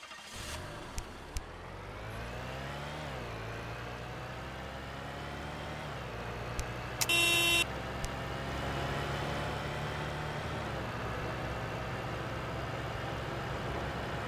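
Taxi driven in the Roblox game Car Crushers 2, a steady synthetic engine drone rising in pitch as it accelerates and shifts, with a few short clicks and a brief electronic beep, no speech.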